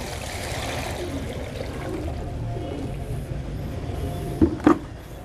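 Five liters of water poured into a dish set up as a bath for pigeons, a continuous low splashing trickle ending in two sharp knocks close by.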